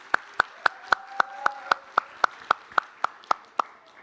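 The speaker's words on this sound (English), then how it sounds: "if you could please give a round of applause to Sarah" About fourteen crisp, evenly spaced claps ring out one at a time at a steady beat, clear and fairly close, with only faint background noise.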